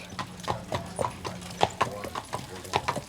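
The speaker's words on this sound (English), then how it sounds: "People really love the clip-clop of horses out there" Horses' hooves clip-clopping on a street on Mackinac Island in Northern Michigan, a steady run of sharp, close hoof strikes with a brief voice partly audible over them.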